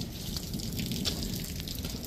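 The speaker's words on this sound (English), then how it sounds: "We got water dumping all over the place." Heavy storm rainwater pours and splashes steadily all around, a continuous dense wash of falling water at close range with no talking.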